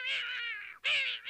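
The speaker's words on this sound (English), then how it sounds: "Good heavens, a green cat." A green cartoon cat gives two bright, close meows in quick succession, each a drawn-out tonal cry with a brief gap between them.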